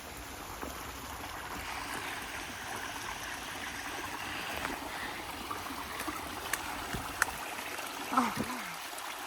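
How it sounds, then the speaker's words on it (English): Water from a small, low waterfall in a wooded park in Austin, Texas, with possible spring inflow, splashes and trickles at a steady, moderate level, with faint distant voices and birds. "So it's not a waterfall of great height, but this is amazing."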